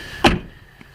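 A single solid thump as a Ford Ranger's door is pushed shut after a door handle replacement, sharp and close, with a faint click about half a second later and no talk.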